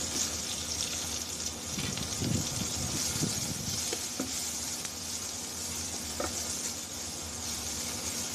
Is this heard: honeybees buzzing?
no